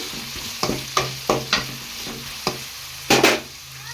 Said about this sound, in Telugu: పచ్చిమిర్చి కూడా మేము ఒకేసారి వేసుకున్నాం వీటిని ఫ్రై చేసుకుంటాం తిప్పుకుందాం గెంటుతోటి